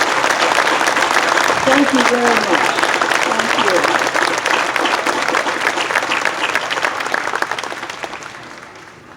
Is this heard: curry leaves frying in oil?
no